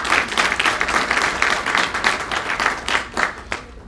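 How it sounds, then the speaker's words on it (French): An audience at a university event applauds a public health professor and economist, steady dense clapping throughout at close range, thinning toward the end. "On applaudit madame."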